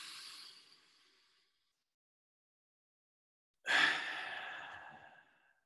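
Deep breathing during a guided breathing exercise, close and soft: one long exhale fading away, a pause of silence, then a fuller airy breath that trails off gradually.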